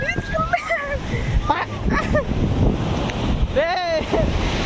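Ocean waves and strong wind at Paradise Beach, Puducherry, a constant roaring wash with heavy wind buffeting on the microphone, while people's voices call out over the surf.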